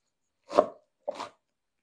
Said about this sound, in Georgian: ძალიან წმინდად არ უნდა დაჭრილი მწვანილი, რომ იგრძნობოდეს მწვანილის გემო